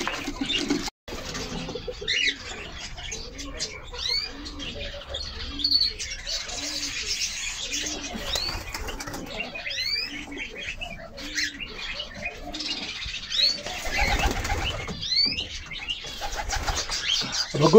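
Pigeons in a loft, with a steady run of soft, rhythmic cooing and scattered chirps, broken by occasional bursts of wing flapping, all close and fairly loud with no talk.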